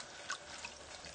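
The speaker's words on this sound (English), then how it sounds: "Okay, I'll pour it like this." Liquid pours steadily into a pan while vegan gravy is made on the stove, a short, soft, continuous splashing trickle with no speech.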